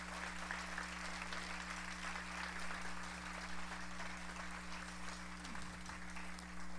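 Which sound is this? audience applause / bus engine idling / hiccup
audience applause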